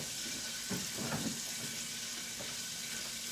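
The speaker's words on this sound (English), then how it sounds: "Gotta rinse my hands off again" Kitchen sink tap running as hands get rinsed, a steady close rush of water with some splashing and clatter, no voice.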